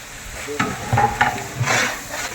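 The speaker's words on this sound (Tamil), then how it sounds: "மசாலா நல்லா வதக்குங்க" Masala for chicken biryani sautéed and stirred in a pan, with several scraping stir strokes and soft sizzling in an uneven rhythm, close and moderately loud.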